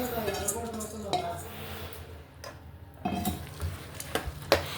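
Boondi laddu mixture in a pan off the heat is stirred with a utensil, producing close scraping and a few sharp clinks against the pan, with a short quieter pause midway.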